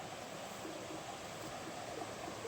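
A river flows through forest near Goa Pacalan in Bondowoso, a steady soft rushing wash of water heard alone and fairly faint.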